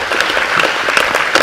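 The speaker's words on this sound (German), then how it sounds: "Applaus bitte, mal einmal für die Kinder" Brief, bright audience applause at a gamescom 2015 panel discussion on television and gaming: loud, dense clapping from a crowd, continuous and close throughout.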